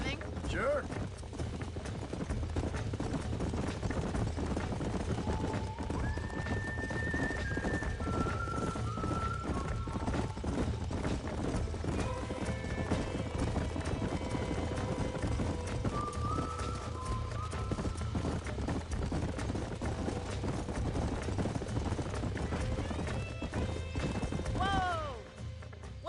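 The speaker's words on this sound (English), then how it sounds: "These are fine horses." Horse hooves clopping at a steady gallop in a Western video game, with a whinny near the end, running continuously under game music and spoken dialogue.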